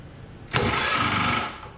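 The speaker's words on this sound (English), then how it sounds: "drilling on the Bridgeport" A Bridgeport milling machine drills deep holes in wood, a steady broadband whirring grind that starts abruptly partway in, holds loud and near for about a second, then tapers off.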